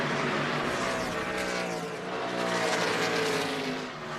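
NASCAR stock cars roar past at the 2020 Fanshield 500, a loud sustained engine drone with rising and falling harmonic whine as the field passes, dense crowd-and-track noise filling the background without speech.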